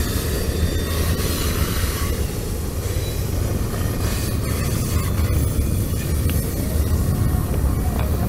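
A freight train hauling Florida East Coast cars on trailers rolls past south of Jacksonville, with steady close clickety-clack wheel noise and rumble continuing throughout, no talking.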